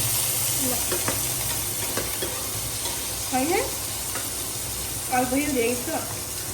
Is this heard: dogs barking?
no